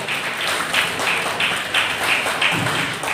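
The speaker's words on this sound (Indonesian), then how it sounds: "Tepuk tangan yang mulia untuk PBSD." Audience applause at an anniversary ceremony, a steady dense patter of many hands clapping throughout, fairly loud and close, with no talk over it.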